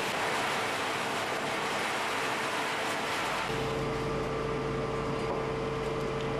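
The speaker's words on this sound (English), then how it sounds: "They have to spray water hoses to settle the cloud of acrid dust." Water hoses spray steadily onto hot charcoal in bunkers at a charcoal plant, a continuous hissing rush that deepens into a heavier, louder roar with a low hum partway through.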